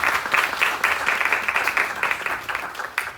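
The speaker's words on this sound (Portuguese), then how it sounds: "Mais uma salva de palmas, por favor." Lecture audience applauding two speakers at a school talk, a steady dense patter of clapping that stays fairly loud throughout, with a few sharper bursts of claps near the end.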